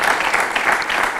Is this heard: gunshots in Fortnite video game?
no